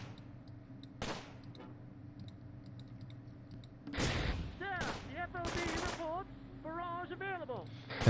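Riflemen infantry trading fire with pioneers in the Close Combat war game, heard as sharp, scattered gunshots and short bursts over a low background hum, with a voice talking partway through.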